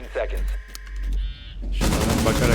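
Rainbow Six Siege gunfire: a couple of quick shot bursts come up between someone speaking, then a sustained loud rattle of automatic fire takes over at the end.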